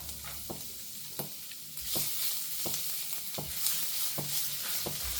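Chopped ginger, garlic and dried chillies fry in a pan for kung pao chicken, a soft continuous sizzle broken by regular scraping taps of a spatula stirring, with no talk.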